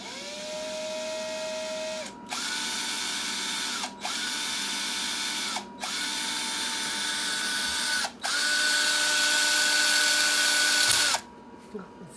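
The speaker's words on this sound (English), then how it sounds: "I'm just gonna punch a little drill in there." A power drill whirs into a bike frame in several bursts separated by short pauses, its whine rising slightly in pitch within each burst, close and loud.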